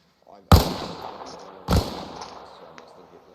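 Two loud, close gunshots ring out on a rifle range in ARMA Reforger, each a sharp crack with a decaying echo, about a second apart, with faint voice chatter in the background.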